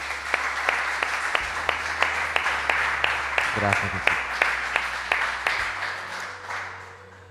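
Applause from a church congregation at an anniversary worship service fills the room steadily, with a voice speaking over it partway through and the clapping fading toward the end.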